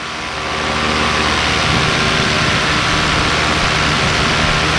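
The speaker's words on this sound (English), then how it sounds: "A nice 4-stroke purr." A paramotor's four-stroke engine runs steadily in flight over Leicestershire, a loud, even drone with a low harmonic hum and broad airy roar that holds constant and close throughout, with no talking.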